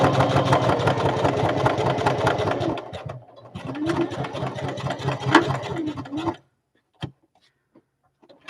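A sewing machine in need of oil or a new needle runs loud and rattly for about six seconds with a brief dip partway, then stops, leaving a couple of isolated clicks in near silence.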